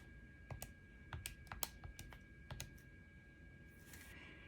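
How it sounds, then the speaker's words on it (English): Several light plastic key presses on a calculator keypad while dividing numbers, quiet and close, in an irregular run of taps with short pauses and no speech. "And then I type in the division on my calculator."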